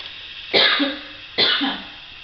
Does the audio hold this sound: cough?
yes